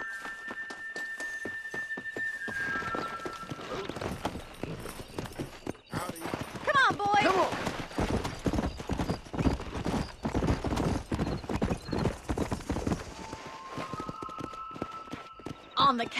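Horses gallop in Red Dead Redemption, a steady clip-clop of hooves with a neigh partway through. Someone talks over the hoofbeats as the horses race along.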